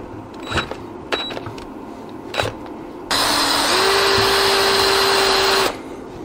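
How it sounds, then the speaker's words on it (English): Several brief sharp clicks and taps, then a steady high-pitched power drill whirring into metal next to bearings on a Caterpillar D4 steering clutch for a few seconds before stopping abruptly. "It's always nice to be drilling right next to bearings."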